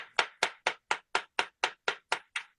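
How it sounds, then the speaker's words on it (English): Rectangle wire is hammered in a metal swage block with about eleven evenly spaced, sharp, ringing metal strikes, steady in rhythm and close by. "Hammer it out."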